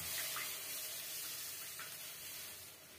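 Tap water runs steadily into a pot being rinsed of leftover tomato soup, a soft hissing, splashing flow heard close and alone at low volume.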